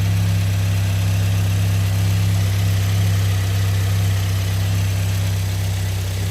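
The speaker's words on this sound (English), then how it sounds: "belt on, no noise, no squeaks, no squeals, car's running fine" A Toyota car engine idles steadily and loudly up close after a serpentine belt replacement, a constant low hum with even vibration and no squeaks, squeals or other sounds.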